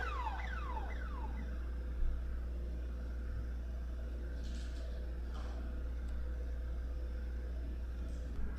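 A car alarm goes off on a city street, its rapidly sweeping tones sounding at moderate distance over a steady low hum, with no talking.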